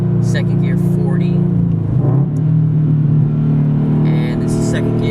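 A Subaru BRZ fitted with NST lightweight pulleys accelerates hard in second gear from 40 mph, a loud, steady in-cabin engine drone rising in pitch, with a voice briefly heard over it.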